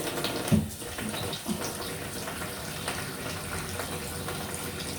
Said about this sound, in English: As you can see, the water's going into the bucket.